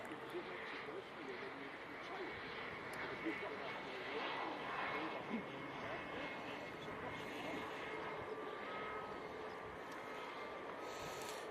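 A VistaJet business jet at Manchester Airport gives off a steady, moderately distant engine roar with a faint whine, continuous for several seconds, while a voice talks quietly over it.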